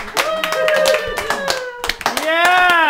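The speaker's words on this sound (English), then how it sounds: "Slow clap. Slow clap." Sharp hand claps, a few people clapping loosely at an unhurried pace, while voices talk and sing a drawn-out tone at a casual key lime pie cooking contest gathering.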